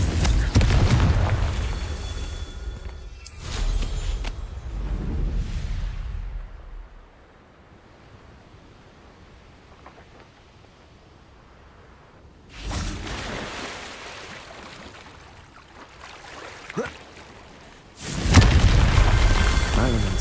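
Confringo fire spell explosions in the Hogwarts Legacy video game: a loud booming burst with rumbling decay at the start, a quiet lull, then two more heavy blasts later on.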